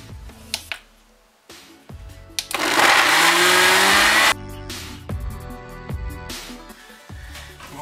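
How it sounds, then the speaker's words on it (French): Blender whirring loudly for about two seconds as it mixes a low-carb overnight pudding batter with cocoa, set between lighter kitchen clatter and clicks. "on va mixer tout ça et on va faire cuire ça juste après"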